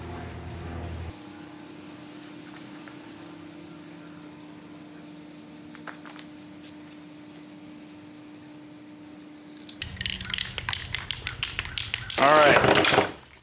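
Hissing aerosol spray in short bursts near the end, followed by a longer continuous spray, over a low steady hum.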